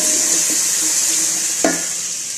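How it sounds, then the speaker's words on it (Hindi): Onion cooking with ginger-garlic paste in a pan for dhaba-style chana dal, a steady hiss with faint stirring, close, and one sharp clink of a utensil near the end. "अब इसमें हम लहसुन अदरक का पेस्ट शामिल करेंगे और थोड़ा सा इसको पकाएंगे"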